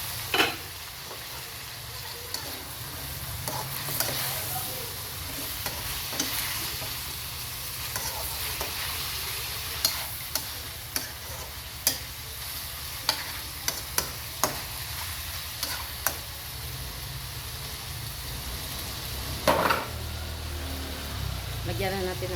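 Chicken adobo sizzles and fries steadily in a pan while a utensil stirs and scrapes, with repeated sharp clicks against the pan. Close and continuous, with voices faintly underneath.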